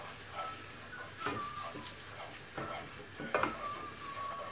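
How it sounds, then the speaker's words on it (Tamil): Curry leaves and chili powder frying in hot oil for masala kachori filling, a steady close sizzle with a few louder stirring scrapes and crackles through the pan. "ஆயில் ஹீட் ஆன உடனே இதில் கருவேப்பிலை ஆட் பண்ணிக்கலாம் இதிலேயே மிளகாய் தூளையும் ஆட் பண்ணிக்கலாம் ஆட் பண்ணிவிட்டு இதை நல்லா ஃப்ரை பண்ணிடணும்"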